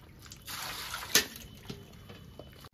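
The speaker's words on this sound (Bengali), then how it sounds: "জামগুলো পরিষ্কার করে ধুয়ে নিচ্ছি" Black plums being rinsed in water, with a soft continuous splashing and trickling and one brief louder slosh near the middle, close by and fairly quiet, with no talking.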